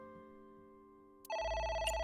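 A telephone rings in the video game AI: The Somnium Files, its electronic ring cutting in suddenly and loudly after a quiet stretch of sustained background tones.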